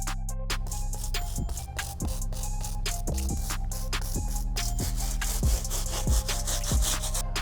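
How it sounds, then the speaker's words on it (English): A stiff bristle brush scrubs the midsoles and soles of Yeezy Boost 350 V2 Semi Frozen sneakers with rapid, rhythmic rasping strokes, close and fairly loud, over a faint steady background hum. "now the last step, our stiff bristle brush. I'm gonna go ahead and hit the midsoles and soles one time"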